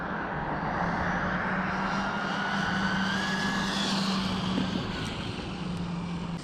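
A DeeRc 1217 1/14-scale budget RC car with an upgraded VbestLife ESC runs flat out on a 4S battery, giving a constant high-pitched electric motor whine that holds steady and loud throughout.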